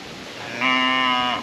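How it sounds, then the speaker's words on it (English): A single cow gives one clear, steady moo of about a second on a farm in the Philippines. It is close and loud over quiet outdoor background. "Oh, there goes the cow."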